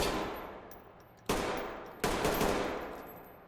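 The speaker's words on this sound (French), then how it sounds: "Un petit coup de stand de tir. On va tirer dans son bassin." Gunfire at a shooting range in a video game: three loud bursts of rapid shots, each trailing off into a long echoing decay, with no talking.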